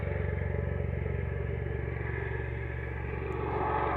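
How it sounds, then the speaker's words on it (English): A motorbike passing outside, a steady low engine rumble with a rhythmic pulse that holds loud and close for the whole stretch, with no voices over it. "It's a motorbike, I guess."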